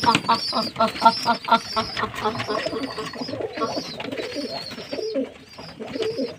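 A flock of pigeons coos steadily nearby while a person talks over them.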